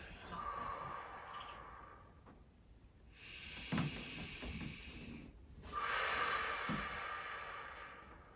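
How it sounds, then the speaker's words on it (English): A slow, soft inhale through the nose during a yoga session, followed by breathy exhales, quiet and close with gentle hissing airflow in a hushed room. "Inhale through the nose."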